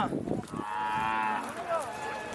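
A loud, drawn-out moo from a Hallikar cow rings out nearby at a cattle fair, followed by a shorter, higher moo from her three-and-a-half-month-old calf answering.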